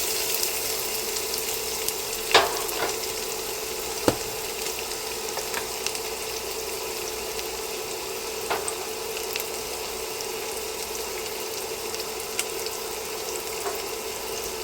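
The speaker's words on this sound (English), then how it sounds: "So once my butter has melted, I'm going to add both of those celery stalks" Celery stalks frying in melted unsalted butter in a pot, a steady close hiss of sizzling throughout with a few faint clicks and pops, no voices.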